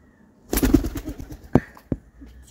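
A pigeon bursts into flight with a loud, close flurry of flapping wings, followed by a couple of brief sharp sounds, with no talk.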